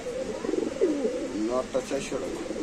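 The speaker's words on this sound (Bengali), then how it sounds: "নয় নাম্বার কবুতরের খাঁচা" Caged pigeons, including Super Mili and Barola breeds, coo in soft rolling bursts close by, with someone talking over them throughout.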